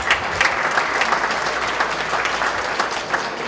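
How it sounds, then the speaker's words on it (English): An audience at a boxing fan event claps for school teachers, giving a steady, dense round of applause that holds at an even level throughout. "How about a round of applause for the school teachers?"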